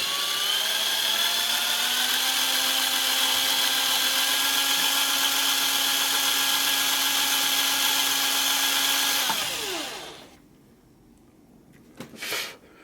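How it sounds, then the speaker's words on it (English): A power drill whines steadily at high speed for about nine seconds while drilling screw holes for a PS3 fan mod, then winds down and stops, followed by a short burst of drilling. "open up some holes with the drill and put some screws in there"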